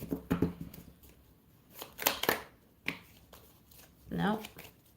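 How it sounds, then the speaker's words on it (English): Tarot cards being shuffled during a reading, a few short riffling bursts and soft flutters spread across a few seconds, close and fairly quiet between pauses. "One more shuffle, please."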